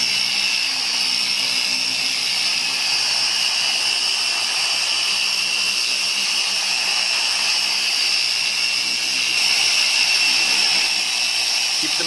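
A paint polishing machine runs steadily against a body panel of a 1995 Viper RT/10, a constant loud whirring hum with no break in the sound and no talking.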